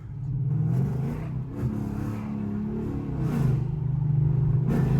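A Chrysler 300 with a 5.7 Hemi V8 and a 180 thermostat tune revs from nearby, its deep engine rumble rising and falling through several throttle blips, with no talk.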